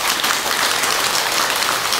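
A temple congregation at Beomeosa on Geumjeongsan mountain claps during a Buddhist sermon, a steady, dense burst of applause that fills the hall for about two seconds.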